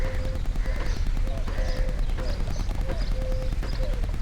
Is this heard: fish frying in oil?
no